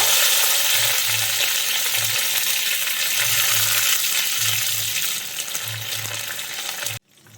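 Curry leaves dropped into hot oil already holding spluttered mustard seeds and dried red chillies, a loud dense sizzle that hisses steadily close by, eases slightly near the end and cuts off abruptly, with no talking.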